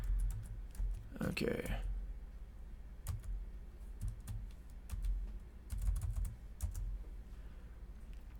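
Typing on a computer keyboard to delete text, bursts of quick close key clicks scattered across the stretch, including one louder clatter early on, with a short spoken word heard partway through.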